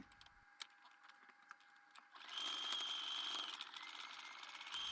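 A sewing machine stitching the back piece of a cat plush, a faint rapid mechanical whir that starts softly, then grows louder and steadier partway through, running alone.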